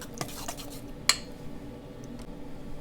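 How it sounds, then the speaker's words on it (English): Banana ciambella batter whisked in a bowl, a steady soft swishing and scraping with one sharp clink of the whisk against the bowl partway through, close by and with no talking. "we're going to whisk this all together until it's all fully incorporated"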